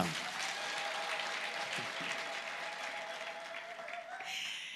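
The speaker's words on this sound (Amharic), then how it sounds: "ደስተኛ ከሆናችሁ አጨብጭቡ ለዚህ ጌታ" Church audience clapping steadily at a worship gathering, a continuous wash of hands across the clip with a sustained tone running underneath.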